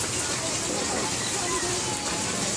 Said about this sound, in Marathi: पाऊस येत आहे म्हणून थोडा वेळ परत थांबलो आहे